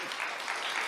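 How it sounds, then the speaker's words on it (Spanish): Brief burst of congregational applause at a Spanish-language church service, a steady wash of many hands clapping together, moderately loud. "Vamos a dar un aplauso al Eterno"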